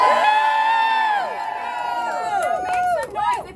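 A crowd at a political rally cheers and whoops loudly, with high shouts and rising calls layered over a dense roar of voices.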